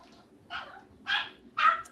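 A dog barks three times in short, evenly spaced yaps, moderately distant, with no talking.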